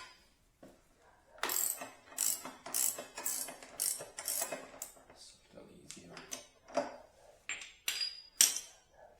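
Metallic ratcheting and clinking while removing the rear wheel ring nut on a Ducati Multistrada 1260S, repeated close bursts of pawl clicks with rattling of loose parts.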